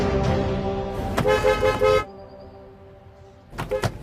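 Car horns honk in a heavy traffic jam, with several short toots and longer blasts overlapping the hum of nearby engines, then a gap before a final cluster of honks.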